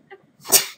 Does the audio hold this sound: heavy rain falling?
no